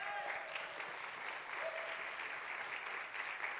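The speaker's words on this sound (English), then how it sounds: "Please give them all a round of applause." An audience at a music show claps steadily, a dense wash of applause heard from a little distance, even in level throughout.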